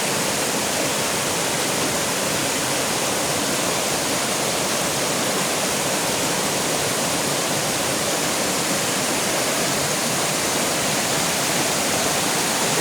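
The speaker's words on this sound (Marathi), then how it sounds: "बघू शकता पाणी किती जोरदार वाहत आहे" Water rushes steadily and loudly for the whole stretch, a dense unbroken roar of a swollen stream tumbling down from the hills toward a river in the Konkan region, India.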